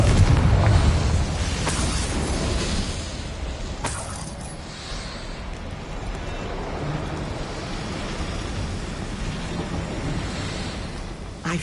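A fiery Confringo blast spell in Hogwarts Legacy, a deep booming explosion at the start that rumbles and fades into a low sustained roar.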